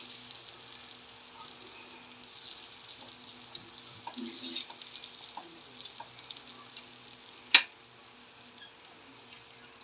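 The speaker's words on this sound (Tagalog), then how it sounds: "Nagigisa na ako. Butter po ang gagamitin ko." Butter sizzles quietly as someone sautés in a pan, a soft crackle with scattered small ticks and one sharp clack near the end; no one speaks.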